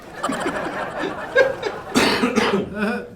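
A few short coughs, close by, mixed with brief voiced sounds like a chuckle or murmur.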